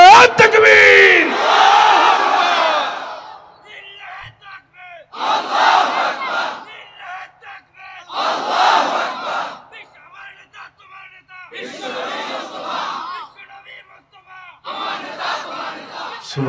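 A large crowd roars the slogan Allahu Akbar in call-and-response fashion: a voice leads, then the mass of voices answers in loud chanted bursts repeated about five times, with short gaps between them.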